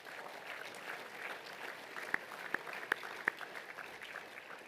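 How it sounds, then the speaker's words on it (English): Audience applause at a school assembly after a Rock Band 2 performance: a steady, fairly faint wash of clapping with a few sharper, louder claps standing out near the end. "they deserve another great round of applause, please"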